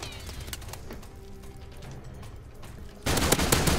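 Gunfire in a multiplayer shooter's search and destroy match, scattered sharp shots early, then a sudden loud, dense burst of close blasts filling the last second.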